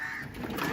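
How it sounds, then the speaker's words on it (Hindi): A crow caws outdoors near a tree and a Pakistan Post mailbox, giving a short harsh call over steady background noise. "कौवा खुश है"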